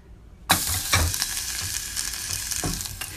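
Food hits a hot pan with a sudden loud sizzle, then fries steadily with crackling spits and a few stirring scrapes, close and continuous.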